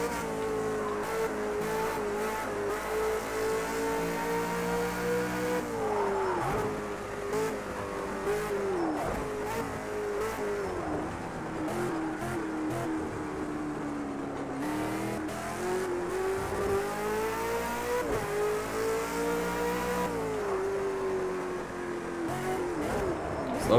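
Race car engine lapping Bathurst's mountain circuit in the Project Cars 2 racing game, a continuous revving drone that rises and falls through gear changes with occasional tire squeal, steady and moderately loud throughout.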